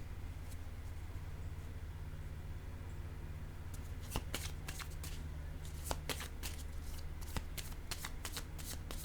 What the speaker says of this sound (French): Je vais prendre une autre carte.